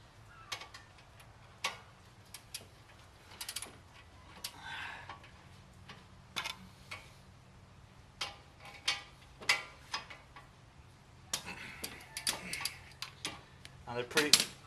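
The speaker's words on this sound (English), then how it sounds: "I'm going to remove the bolts from the back." Brake bolts being removed on a 2010 Honda Accord V6, with scattered metallic clicks and ratchet ticks of tools on metal, sporadic and fairly quiet over a low background hum, with some talking.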